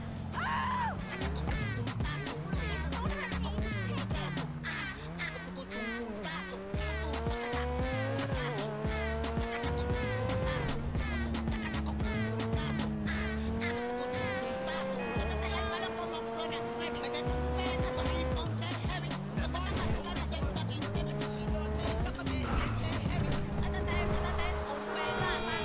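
Car driving in GTA V gameplay, with a revving engine whose pitch repeatedly climbs and drops through gear shifts, tire squeals and other passing vehicles, loud and continuous over a background game soundtrack.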